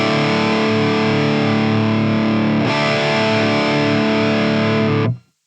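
A sustained, heavily distorted electric guitar tone rings out loud and thick, shifts once midway, then cuts off abruptly near the end.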